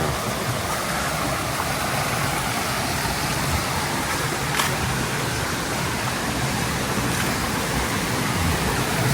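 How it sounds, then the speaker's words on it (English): A river at an ecopark near Puerto Vallarta, Mexico, rushes steadily, a dense, continuous broadband roar of flowing water with no pauses and no voices. "There's the river."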